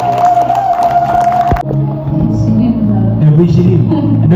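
A church congregation clapping and cheering for Jesus during a worship service, a loud crowd roar with many overlapping voices that shifts midway into a denser, lower swell of applause and shouting.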